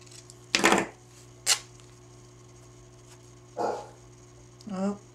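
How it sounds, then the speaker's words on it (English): A dog barks indoors in four separate bursts spread over several seconds, mid-distance and fairly loud, over a steady mains hum. "There goes the dog."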